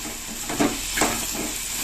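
Double beans sautéing with softened tomatoes in a pan for a cauliflower gravy, giving a steady low sizzle with a couple of brief stirring scrapes, close and unaccompanied by talk.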